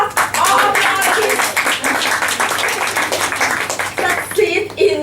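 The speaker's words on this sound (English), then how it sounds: "Give you a big round of applause." An audience at a Toastmasters club meeting gives a big round of applause, dense steady clapping that fills the room, with voices and a child's chatter mixed in.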